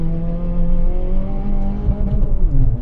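A Lada Vesta engine revs hard up to its 6000 rpm limiter, a loud, steady, close-up drone with rising harmonics that stutters and bounces against the cutoff near the end.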